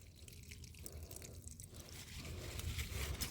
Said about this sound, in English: we're just going to go down all the tomatoes and pour them at the base